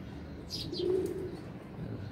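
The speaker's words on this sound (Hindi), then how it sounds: "ये कबूतर नज़दीक आए हुए हैं" Soft, low pigeon cooing rises briefly in the middle, with a few faint chirps near the start, over a steady background hum.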